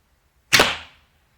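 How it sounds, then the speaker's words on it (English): A wooden arrow fitted with 4-inch feathers, shot from a Win and Win Black Elk recurve bow, strikes a target with one sharp, close impact that rings briefly and fades within half a second, with no one talking. "So the noise you're hearing is where it's hitting the target."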